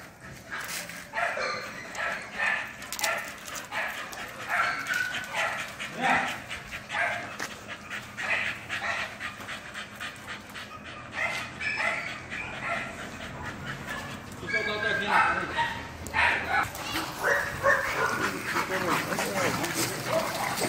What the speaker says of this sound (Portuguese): cachorrada maluca